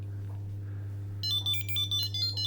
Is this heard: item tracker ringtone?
yes